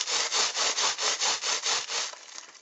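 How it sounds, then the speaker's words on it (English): A rolling pin is pushed back and forth over wet wool felt, making a rhythmic series of about nine soft, close swishing strokes that ease off at the end, with no talking. "this is where you take your rolling pin and you're going to roll first one way,"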